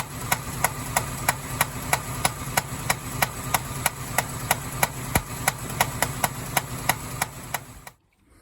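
A car engine running after a start, giving a rapid, tinny metallic ticking that repeats at a steady fast beat over a low rumble, fairly close, until it cuts off abruptly near the end.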